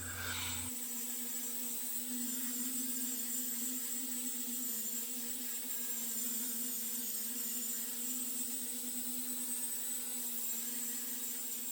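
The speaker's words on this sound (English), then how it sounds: "I use a white Scotch-Brite pad on my random orbit sander to rub the Rubio Monocoat in" A random orbit sander fitted with a white Scotch-Brite pad rubs Rubio Monocoat oil finish into a monkey pod and epoxy table top, producing a steady, continuous whirring hum with a constant tone throughout.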